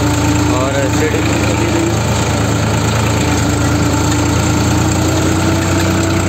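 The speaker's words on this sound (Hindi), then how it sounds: "चल रही भाई सिडिल" A New Holland 3630 tractor pulls a running seed drill, its engine a steady, loud mid-low drone with constant vibration throughout, held close and unbroken.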